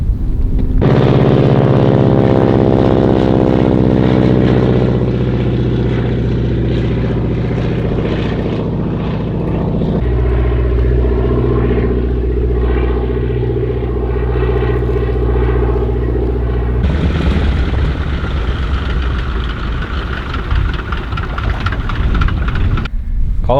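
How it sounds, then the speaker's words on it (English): A small propeller airplane approaches over remote wilderness, its loud droning engine steady and growing with shifting pitch as it nears, dominating the scene for over twenty seconds without any talking. "Here comes our plane."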